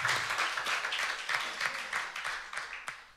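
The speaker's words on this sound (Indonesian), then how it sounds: "Boleh tepuk tangan buat orang-orang yang mendukung acara." Applause from the audience at an Indonesian song book release concert, a ragged mix of claps spread through the room at moderate level, with faint talk beneath.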